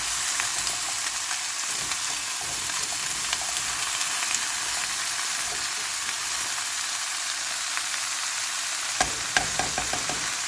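Chayote being sautéed in a pan, with a continuous sizzle and occasional stirring scrapes, and a brief burst of sharper clatter near the end.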